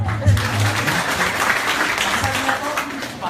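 An audience claps steadily, a dense, continuous applause filling the room at a training event during a product demonstration, with voices faintly mixed in.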